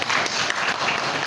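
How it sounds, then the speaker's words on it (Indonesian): University alumni audience clapping together, a loud, close, dense burst of many hands filling the whole short moment without a break. "tepuk tangan"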